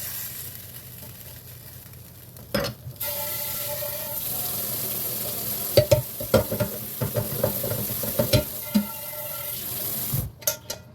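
Tap water runs into a pan being rinsed in a kitchen sink after cooking steak, mushrooms, spinach and bacon: a steady close rush of water starting a few seconds in, broken by scattered clanks and knocks of the pan.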